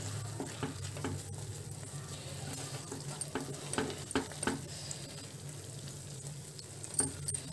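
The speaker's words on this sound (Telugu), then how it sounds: "మధ్య మధ్యలో 1-2 టేబుల్ స్పూన్ నెయ్యి వేసి మిక్స్ చేసుకుందామండి" Carrot halwa stirred with ghee in a pan, a soft steady sizzle with scraping strokes and occasional clicks of the spoon against the metal, close and moderately quiet, no talking.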